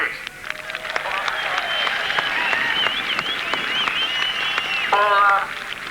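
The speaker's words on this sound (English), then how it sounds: "Would you give Sammy Miller a round of applause, please?" A crowd at a drag racing event applauds a competitor after a race, producing steady clapping with voices and cheering mixed in throughout and a brief high whistle near the end.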